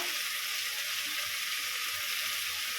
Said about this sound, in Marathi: आता हे छान परतून घेऊया